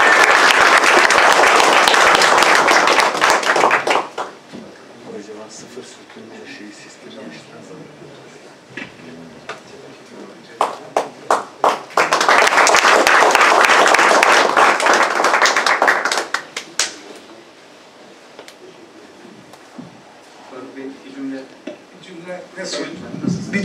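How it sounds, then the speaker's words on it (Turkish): Loud bursts of applause from a crowd at an awards event, two long waves of clapping separated by quieter stretches with scattered claps and some talking. "Bence bu ödüllere bu alkış çok az."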